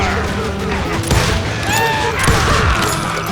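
Gunfire in the Call of Juarez Gunslinger video game, a loud rapid fusillade of overlapping shots and booms, with a character shouting through it.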